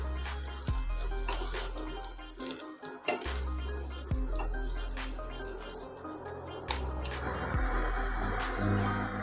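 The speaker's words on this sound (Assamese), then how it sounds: "এতিয়া মই নমাই ল'ম আৰু মই বাকীখিনি কাটলেটো এইদৰে ফ্ৰাই কৰি ল'ম" Homemade broccoli cutlets fry in oil in a pan, a continuous close sizzle broken by intermittent scrapes and knocks of a utensil against the pan.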